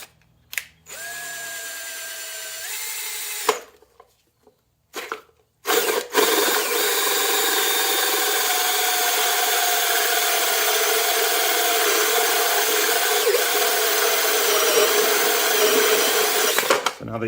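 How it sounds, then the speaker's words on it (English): A drill fitted with a 2-inch hole saw bites into a plastic RV fresh water tank, a brief whine and stop, then a long steady grinding cut close by, with short pauses early on. "I have a drill with a 2-inch hole saw on it"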